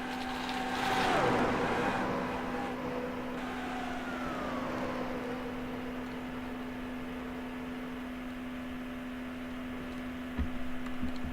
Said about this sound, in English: Kyle Busch and Clint Bowyer side by side for the lead once again.